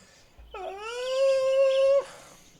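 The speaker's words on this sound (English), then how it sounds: "That was a peculiar howl" A werewolf in the game Werewolf The Heart of the Forest lets out a single sustained, tonal howl that rises, then holds steady for about a second and a half before cutting off abruptly, loud and close.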